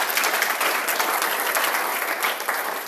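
A lecture audience breaks into dense, steady clapping from many hands, loud and close, sustained without a break for a few seconds.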